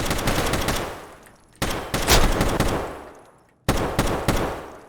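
Automatic gunfire in the video game Escape From Tarkov, loud and close, in three sustained bursts of rapid shots, each cutting off sharply and trailing into a decaying echo before the next volley starts.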